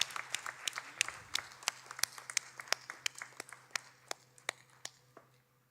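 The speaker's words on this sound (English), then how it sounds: "Ladies and gentlemen, can we have a round of applause for Shri Ratikanta Ghosh?" Audience applause at a chamber of commerce annual general meeting: a sustained round of clapping with many sharp individual claps, fairly close and steady, thinning out toward the end.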